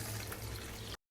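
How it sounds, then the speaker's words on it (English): Water pours steadily and close into a bowl of bananas for about a second, then cuts off abruptly into silence. "I add the water to it to prevent it from changing color"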